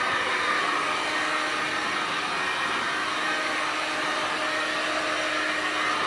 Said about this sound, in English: if you keep the heat up on the gun. So I'll give it one more blast